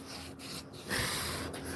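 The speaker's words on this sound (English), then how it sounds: "I'm going to start sanding this down just by hand" Hand sanding a fiberglass car door panel produces a close, steady abrasive rasp with short back-and-forth strokes and no talk.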